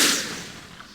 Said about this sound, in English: Pretty good gunfire there, and they reduced one of our guys by one.